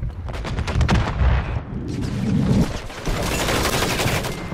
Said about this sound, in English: You shot an RPG at me?